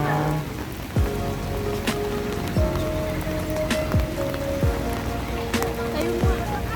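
Steady rain patters on surfaces in Baguio City, a dense continuous hiss broken every second or so by sharper individual drips and knocks close by, with no voices over it.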